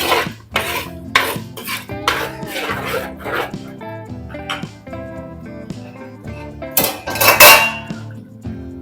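Ground masala paste for fish curry is sautéed in a pan, with clattering metal spoon-on-pan stirring knocks in irregular bursts and a dog barking in the background.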